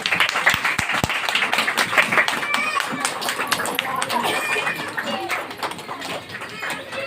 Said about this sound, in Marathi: सर्वांनी उभं राहून टाळ्या वाजवाव्या